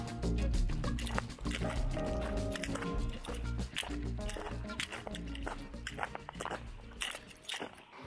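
A small waterfall flowing near the abandoned village of Beniowa in the Bieszczady mountains, a close continuous splashing and gurgling with bubbly drips throughout.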